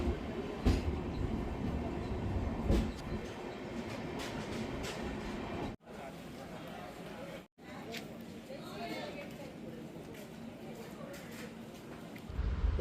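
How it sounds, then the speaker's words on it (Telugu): A train pulls out of a station, heard from inside a coach on the way toward Araku, with a low steady rumble and rolling wheel noise, faint chatter and two brief dropouts. "ట్రైన్ అయితే బయలుదేరుతుందండి"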